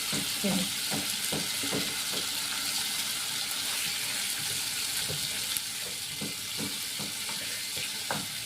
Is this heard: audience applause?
no